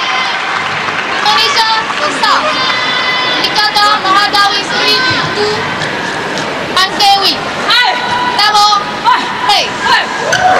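A vociferous home crowd at a women's team badminton semi-final cheers and chants for Malaysia, a dense, continuous roar with whistles and shouts swelling in waves, with an announcer talking over it.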